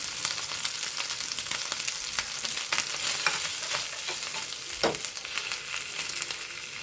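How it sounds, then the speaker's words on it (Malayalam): Crab fry with grated coconut sizzling steadily in a pan and stirred with a few scraping clinks, one louder knock near the end; close, continuous hiss with no talking. "ഈ നാളികേരം ഇട്ട് കൊടുക്കാം കേട്ടോ ഒന്ന് നമുക്ക് ഒന്ന് ഇളക്കി കൊടുക്കാം കേട്ടോ നല്ലോണം"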